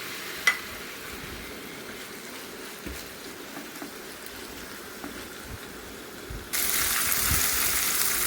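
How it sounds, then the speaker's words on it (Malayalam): Sardines fry in oil in a pan, a steady soft hiss and crackle heard alone with no voices, growing suddenly louder and brighter near the end. "ഇതുപോലെ ഒരു പാൻ അടുപ്പത്ത് വെച്ചിട്ട് അതിലേക്ക് കുറച്ച് എണ്ണ ഒഴിച്ചിട്ട് നമുക്കൊന്ന് ഫ്രൈ ചെയ്തെടുക്കണം"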